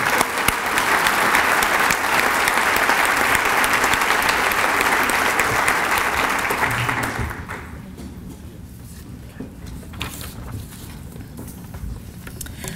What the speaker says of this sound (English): One more round of applause for our middle school and high school employees of the